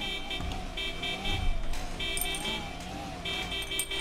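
A golf cart's horn honking in the video game GTA 5, sounding as repeated tonal blasts over engine hum and game noise, fairly loud and close.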